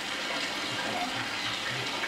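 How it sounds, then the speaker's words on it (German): Water running into a basin as a steady, soft rushing and splashing from a tap, faint and unbroken for about two seconds. "Heute hast du das Wasser einfach reingelassen."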